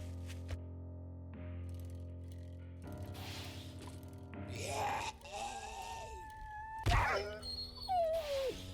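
A dog in the survival game 7 Days to Die whimpering and wailing, with rising and falling whines and yelps over steady game ambience and tones, moderately faint, the cries swelling toward the end.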